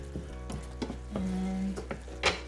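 Palabok sauce with black pepper, garlic, salt and fish sauce is mixed in a pan, giving soft sizzling under repeated scraping and tapping strokes of a spoon, close and fairly quiet.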